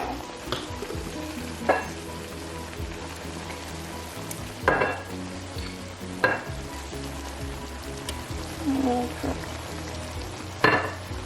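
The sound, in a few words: shrimp teriyaki stir-fry sizzling in sauce with sesame oil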